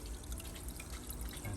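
Aquarium filter pump returning water into a fish tank in an aquaponics setup, a steady close trickle and splashing with scattered drips, continuous and fairly quiet.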